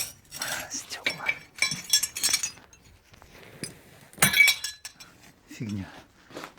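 Broken glass shards clink and crunch in short bursts as they are handled in the debris of a rural house, close by, with a person talking in between.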